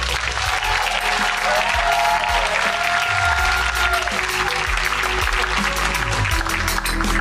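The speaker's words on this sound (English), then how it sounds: "I didn't think that was loud enough, so bigger applause" Audience applause greeting the presentation of the Changemaker of 2025 award to Karan Johar, a dense, steady roar of clapping filling the room from start to finish, with a few faint tonal sounds drifting through underneath.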